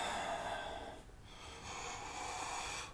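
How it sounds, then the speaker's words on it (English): A long, deep exhalation during a yoga session, breathed out steadily through the nose. A second slow breath follows after a brief pause, close and fairly soft, with no speech. "Getting longer with the breath. Longer, longer, longer. And breathing out."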